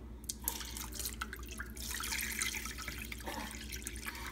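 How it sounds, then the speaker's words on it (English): A cup of water poured into a crock pot over a pot roast with soy sauce and garlic, a faint trickling, splashing pour with some dripping. "I'm going to add a cup of water."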